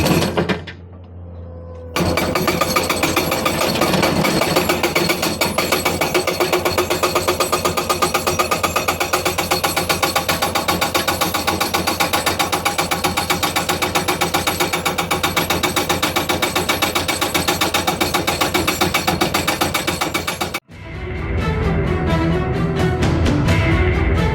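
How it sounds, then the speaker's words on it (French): A jackhammer breaks ground for a septic field excavation, pounding loud and close in a dense continuous rattle for most of the stretch, then stopping abruptly before a quieter mechanical hum. "je suis revenu seul pour une bonne petite heure pour continuer à faire du marteau"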